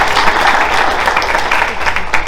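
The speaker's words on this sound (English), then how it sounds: "Give him a round of applause" A business audience of about 120 people applauding, a loud, close wash of dense clapping that holds steady across the short stretch without pauses.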